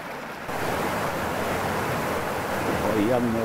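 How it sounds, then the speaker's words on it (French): Steady broadband rush of a small flowing stream, continuous and fairly close, with a brief voice-like murmur near the end. "le voilà mon joli petit ruisseau"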